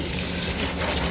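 Tap water runs steadily and close by during a hair wash at a beauty salon, a continuous gushing splash.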